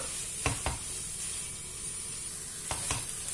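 Chicken filling with chopped parsley and coriander sizzling in a pan, a steady hiss broken by two pairs of sharp spoon scrapes, no voices.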